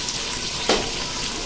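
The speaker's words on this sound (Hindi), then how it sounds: "ये सारे मसाले को भून लेंगे अच्छी तरह से" Ground chillies, green chillies, turmeric and coriander frying in oil in a pan for kofta curry, a steady close sizzle with a brief louder burst of splutter midway.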